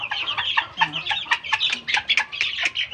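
Young gamecock stags cluck in a flock, a busy close chorus of short repeated clucks and chirps overlapping steadily throughout, with no talk.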